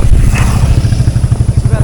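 A motorcycle rumbles close by on a rural road near the Kolung Jharna waterfall, a loud steady low engine drone with clattering texture and a voice talking over it.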